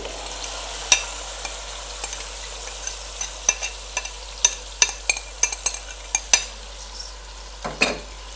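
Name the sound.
stirring marinated chicken with onions in a frying pan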